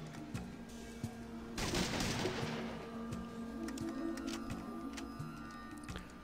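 Gunfire in the video game Fallout 2: a faint, low-level burst of sharp reports, then a scatter of small ticking and clicking sounds over a quiet, steady background, with no talk.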